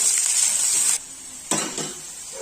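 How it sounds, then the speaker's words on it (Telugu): Onions fry in hot oil with whole spices for bagara rice, a bright steady sizzle broken by a brief pause, then a stir and scrape of a pan. "ఇవన్నీ ఆనియన్స్ వేసుకొని బాగా వేయించుకోవాలి ఆనియన్స్ని"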